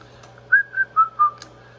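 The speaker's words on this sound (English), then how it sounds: "You can see when I whistle, the power light on the amp is going dim." A person whistles into a radio microphone feeding a Heathkit SB200 tube linear amplifier, giving four short clear tones in a quick stepped sequence over a steady low hum.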